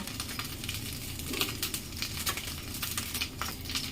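Ginger paste, cumin, chilli, salt and turmeric sizzle and fry in a pan while being stirred, a steady crackling hiss with occasional scraping, close and alone without speech.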